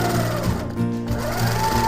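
A motorized longarm quilting machine stitches in a steady, close, loud mechanical hum with rapid needle chatter, briefly easing in pitch midway before running on continuously.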